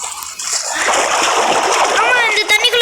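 A character splashes into water in the video game Roblox, giving a loud, sustained splashing and sloshing burst, with a voice talking over the end.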